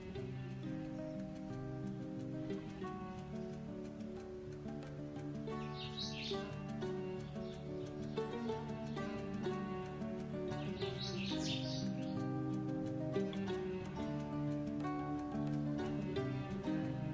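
Birds chirp and call in a Moroccan date palm grove laden with ripe dates, bright twittering bursts rising at intervals over a dense, continuous background of sound.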